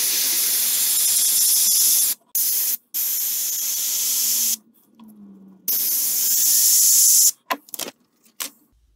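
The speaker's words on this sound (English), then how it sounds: "when I spray, I'm gonna spray really on the paper and let it overspray" Spray paint hissing from a can in long steady bursts with short pauses, loud and close, while a wooden bluegill jointed swimbait is painted.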